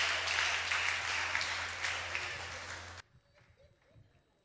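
Church congregation clapping and cheering together during a sermon, a loud sustained burst of applause that cuts off abruptly after three seconds, followed by quiet room noise.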